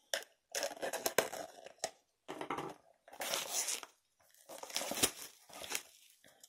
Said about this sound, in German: das nochmal den Sammelschuber auspacken